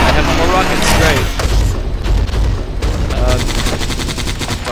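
Rapid weapon fire in the video game Terminator Genisys Guardian, set in New York, as the player fires rockets: loud, continuous blasts and bursts of gunfire that fill the whole moment, with a voice talking over them.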